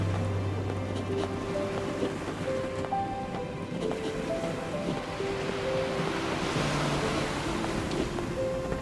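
Turbulent ocean waves surging against a ship at sea in Nier Reincarnation, a steady roaring wash of surf and wind held under soft sustained music tones, with no talk.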